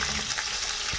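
Cashew nuts fry in a pan with dried chillies and curry leaves, making a loud, bright, continuous sizzle broken by the soft scrape of stirring.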